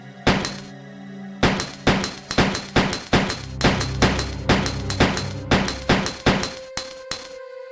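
Rapid handgun shots ring out in Resident Evil 2, a loud burst, a pause, then a long run of evenly spaced sharp cracks with ringing tails, alone without talk.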